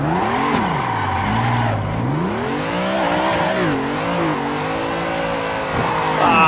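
A BMW M3 spins a donut in the racing game Assetto Corsa, its engine holding a loud, wavering rev as the tyres squeal continuously through the turn, close and unbroken with no talk.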